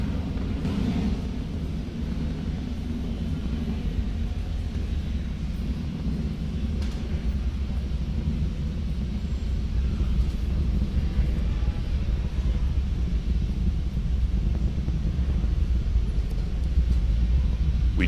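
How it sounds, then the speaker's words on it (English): A SpaceX Falcon 9 rocket launching satellites for an internet project roars during ascent past max Q, a deep, steady, distant rumble that slowly grows louder, with no voices. "That Falcon 9 rocket is now throttling back up to full speed as it ascends through the atmosphere"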